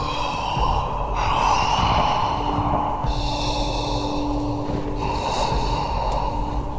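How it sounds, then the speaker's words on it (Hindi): Long, heavy, frightening breaths serve as a horror sound effect, a slow series of loud, drawn-out rasping inhales and exhales, close and alone. "लंबी लंबी भयानक सांसें लेने लगा"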